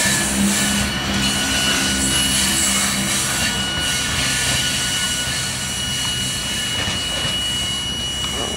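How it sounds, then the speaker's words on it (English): A CSX freight grain train led by AC44 locomotives rolls along a siding, producing a steady, loud, broadband rumble of passing cars that stays fairly even throughout with no voices. "Here comes the end of the grain train."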